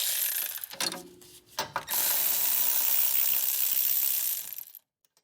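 Ratchet wrench clicking rapidly as it backs out wheel bearing bolts on a Honda CR-V rear hub, close and loud, a short burst and then a long continuous run of ratcheting before stopping.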